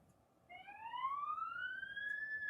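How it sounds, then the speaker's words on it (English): A siren from an emergency vehicle responding to a fire call in Allentown winds up clearly and holds a rising wail, loud and near, with no talk over it. "Oh, I hear sirens."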